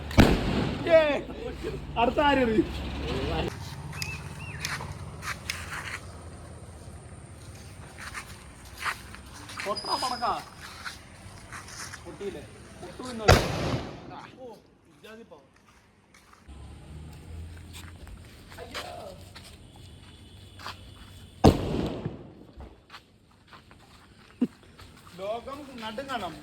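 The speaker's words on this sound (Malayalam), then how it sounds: "ഇപ്പൊ അടുത്ത പടക്കം വരും" People talk outdoors as two sharp firecracker bangs burst loudly, several seconds apart, amid scattered footsteps and shuffling.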